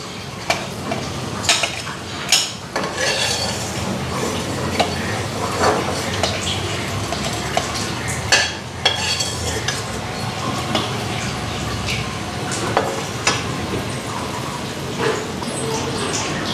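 Leftover oil crackles in a pan after fish has been fried in it, a steady close sizzle broken by the clink and scrape of a spoon and utensils against metal.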